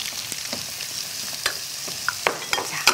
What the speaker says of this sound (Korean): 그래서 이렇게 붉어질 수 있을 때까지 이렇게 해서 볶아주는 거예요.